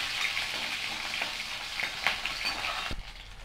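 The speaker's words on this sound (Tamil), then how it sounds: "இப்போ வந்து முதல்ல வெங்காயத்தை போட்டு நல்லா வதக்கிக்குவாங்க." Onions frying in a pan with mustard seeds, fenugreek, cumin and dried red chillies for sambar, a close, steady hissing sizzle with a few soft stirring knocks and an abrupt thud near the end.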